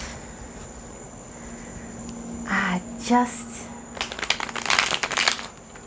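Tarot cards being shuffled close by: a few brief riffles and taps, then a longer rapid flutter of cards, over a quiet steady hum.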